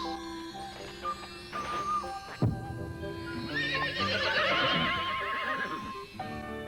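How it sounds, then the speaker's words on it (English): Storybook sound effect of a horse whinnying loudly with prancing hooves clip-clopping, set against light background music, one clear neigh midway and steady hoofbeats throughout, no speech. "each mouse turned into a prancing horse"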